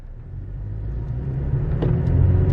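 A Toyota Tacoma pickup with an oil-leaking axle drives in four-wheel drive, giving a steady low engine and drivetrain rumble that slowly builds in loudness, with no talking.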